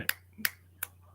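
Three sharp finger snaps spaced roughly evenly about a third of a second apart, crisp and close, over a faint steady low hum with no talking.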